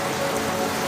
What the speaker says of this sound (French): Il pleut maintenant.